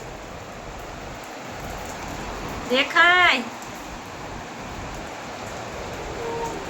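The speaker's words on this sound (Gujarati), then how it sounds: "જોરદાર વરસાદ આવે છે હો ભાઈ" Heavy rain pours down in a steady, dense hiss that holds an even level throughout, with one brief spoken exclamation partway through.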